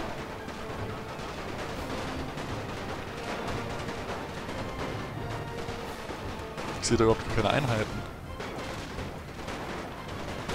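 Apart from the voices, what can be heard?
gunfire in the video game NTW The Great War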